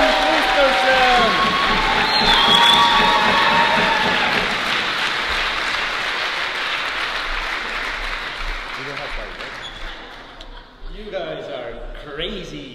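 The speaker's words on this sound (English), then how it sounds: "So give great, amazing applause to Martin Kristerson!" Loud applause from a large audience greeting Martin Kristerson as he takes the stage at a startup talk, steady dense clapping with cheering and crowd voices over it, fading gradually toward the end.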